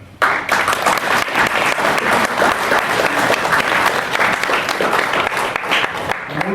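Audience applause at a historians' and chroniclers' conference at Fort Leaton Presidio, a full, steady roar of many hands clapping from start to finish, close and loud, with faint crowd murmur beneath.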